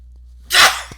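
A single sharp sneeze bursts out close and loud after a quiet moment in a lecture, followed by a soft breath.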